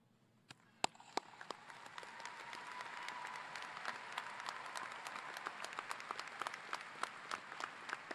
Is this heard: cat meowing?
no